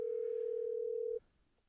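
Telephone dial tone on a call to an interview guest, a steady pure tone held for just over a second and then cut off abruptly, leaving near silence.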